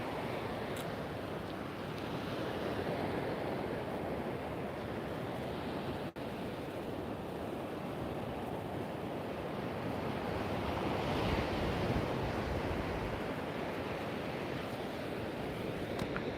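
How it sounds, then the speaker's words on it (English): Wind and ocean waves on a shore make a broad, steady roar of surf with gusty wind rumble over the microphone, moderately quiet and continuous, with no voices. "Can you hear the sound of the wind and the waves?"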